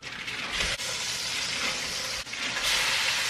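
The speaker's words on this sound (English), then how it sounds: "Now I'm taking 3 pounds of stew meat or chuck roast and browning it in the pot." Three pounds of stew meat or chuck roast browning in a pot for beef stew, giving a loud, steady sizzle and crackle with brief stirring scrapes, with no talking.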